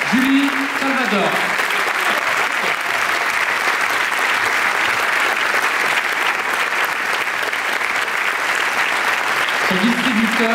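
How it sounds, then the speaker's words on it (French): Continuous loud clapping from a theater audience welcoming the crew of a French film, a thick steady roar, with a speaker's voice heard at the start and again at the end. "Je vous demande de les applaudir très fort"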